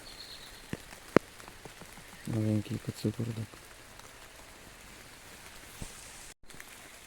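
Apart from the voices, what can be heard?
rain falling in a forest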